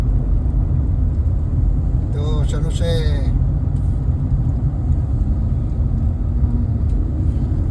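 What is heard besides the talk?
busy road traffic, many cars in San Jose, California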